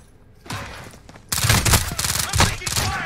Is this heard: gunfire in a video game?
yes